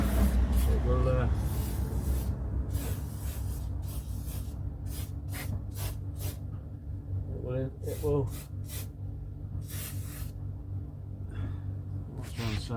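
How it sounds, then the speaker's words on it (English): Wax oil sprayed from an aerosol onto the rusty underside of a Romeo car, coming as repeated short hissing bursts, some close together and others spaced apart, with someone talking nearby. "Get this wax oil up in there."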